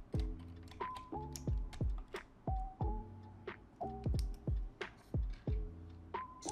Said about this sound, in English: First thing, of course, you need to remove the keycap.